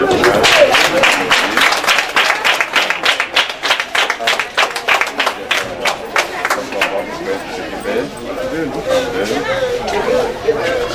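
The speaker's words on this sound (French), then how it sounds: "Applaudissez." An audience claps in a dense burst of applause at a school awards ceremony, gradually thinning out, with chatter mixed in.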